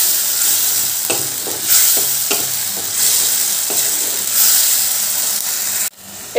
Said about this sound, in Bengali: মশলাটা এবার একটু ভালো করে কষাতে হবে, যাতে কাঁচা গন্ধটা না থাকে